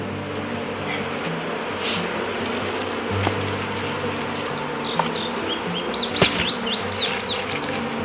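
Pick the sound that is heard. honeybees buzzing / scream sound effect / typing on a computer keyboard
honeybees buzzing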